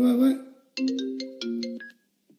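A phone ringtone plays a short melodic pattern of bright tones, then stops abruptly after about two seconds.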